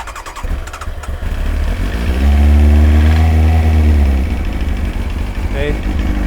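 A Kawasaki ZX-9R motorcycle engine cranking and firing up, then revving into a loud, close, rumbling idle with a steady low drone that settles after a few seconds.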